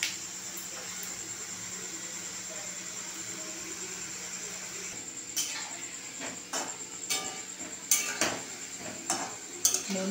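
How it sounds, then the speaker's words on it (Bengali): Taler puli pitha, a palm-fruit dumpling, fries in a pan with a low, constant sizzle. Clinks and scrapes of utensils stirring come in toward the end. "কত সুন্দর প্রতিটা জিনিসই ভাজা হচ্ছে দেখুন,"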